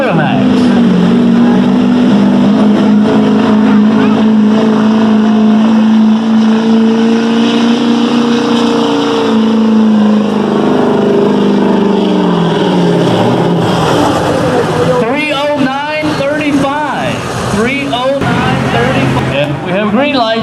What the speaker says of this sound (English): We have a green light on the track. 2000 Chevy Duramax.